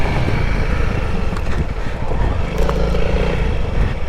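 Honda CRF300L motorcycle ridden hard while pulling wheelies, a loud continuous engine roar with rumbling low end and heavy wind buffeting on the microphone, the revs rising slightly near the end.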